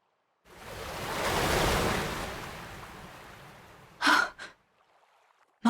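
Ocean waves rolling onto a beach in the video game Fire Emblem Engage, a single swelling wash of surf that rises, then slowly recedes, followed by brief breathy gasps.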